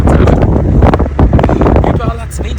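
Wind gusting across open Sahara desert terrain in Western Sahara, a steady loud roar with buffeting rushes on the microphone, while people talk over it throughout.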